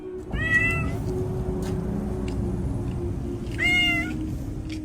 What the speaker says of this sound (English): This cat was huddled in the freezing cold, crying for help.